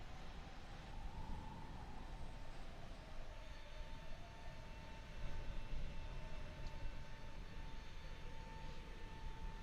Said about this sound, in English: Well, listen to that wind.